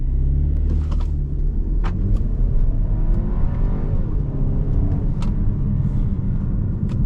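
A 2024 Volkswagen Tiguan pulls away under light throttle, its engine giving a low, steady rumble that rises gently in pitch as speed builds, heard from the cabin with a few faint clicks and no talking.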